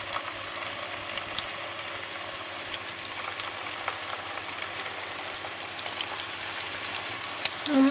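Hot oil sizzling in a frying pan, a dense, steady crackling hiss that stays even and close for several seconds with no talk over it.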